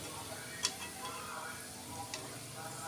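Pitha mold being shaken in hot frying oil in a wok, a steady soft sizzle with faint metallic taps against the pan, quiet and close.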